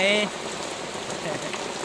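Steady rain falling and pattering on a surface, a constant even hiss that follows a short tonal sound at the very start.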